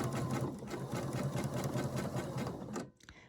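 A sewing machine stitches quilt block patches at a scant quarter-inch seam in a fast, even mechanical whir with a rhythmic pulse, close and steady for nearly three seconds before stopping abruptly.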